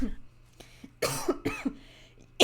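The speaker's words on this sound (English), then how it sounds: "I started coughing real bad." A few sharp, harsh coughs burst out in quick succession, close and fairly loud, separated by brief quiet pauses, during a League of Legends match commentary.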